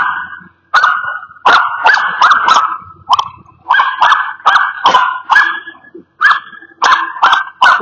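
A dog in a parking lot barks loudly and repeatedly at a street cleaner, firing short bursts of sharp, close barks in quick clusters with brief pauses between them.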